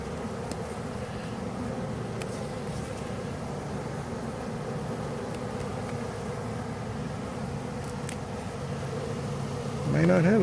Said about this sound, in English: I'm really scared of these bees.